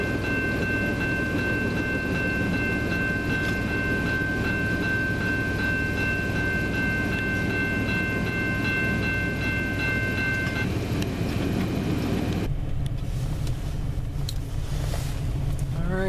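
CN freight train M340, led by locomotive CN 2994, rumbles past in Ladysmith, continuous rolling wheel noise and a sustained tone that cuts out near the end, loud and close.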